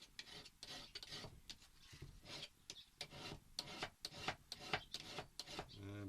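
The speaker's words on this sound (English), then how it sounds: "I do just tickle them up with a file, but I use a feather edge diamond file." A feather edge diamond file rasps along a hedge cutter blade to take off the burr, in quick repeated strokes at close range, fairly faint, with a short burst of speech near the end.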